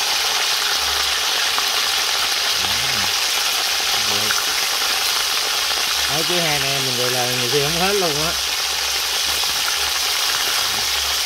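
Coconut goby fish frying in oil, a loud, steady sizzle filling the whole stretch while a person talks over it in Vietnamese.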